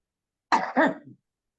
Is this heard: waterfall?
no